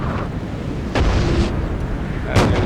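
Musket volleys in a large Napoleon Total War battle boom over a constant low rumble of battlefield noise, with two sharp loud bursts about a second and a half apart.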